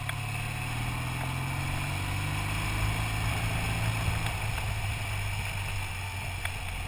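A motorcycle engine drones steadily on winding late-summer roads in southern France, a sustained low rumble that shifts slightly in pitch partway through, close and continuous with broadband road and wind noise.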